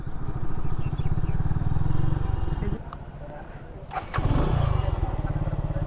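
A motorcycle engine starts and revs at close range as the bike is eased into the Mahasthan museum parking area in Bogura, Bangladesh. A steady, loud rumble runs throughout, dipping briefly before picking up again, with voices nearby.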